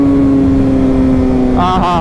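A Kawasaki motorcycle ridden with its dB killer removed from the exhaust, a loud, close, steady engine drone that rises into a sharp rev toward the end, with wind rush.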